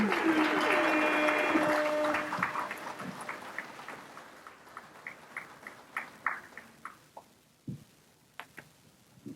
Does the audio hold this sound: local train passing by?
no